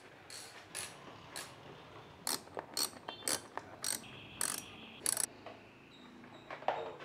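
Small screw driven back into the air filter cover of a Honda Click 160 scooter, a series of sharp ratcheting clicks in short bursts, close and fairly quiet with no talking.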